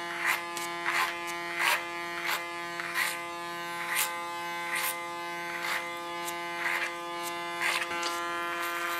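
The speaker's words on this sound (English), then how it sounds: "So the under parts, that'll do with the clipper." An electric hair clipper trims the underside of a short asymmetrical women's haircut, with a steady close buzz and regular brighter snips as it passes through the hair, roughly once per second.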